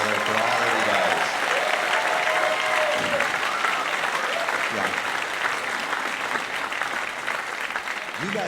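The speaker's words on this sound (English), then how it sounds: "Let's give Chris a great big round of applause for all that he does." An audience applauds loudly and continuously, with cheers and a few voices rising over the clapping.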